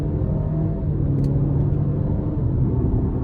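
A 2024 Cadillac XT4 AWD with a 2.0-litre turbo engine accelerates in sport mode, heard from inside the cabin as a steady, loud engine drone and road rumble.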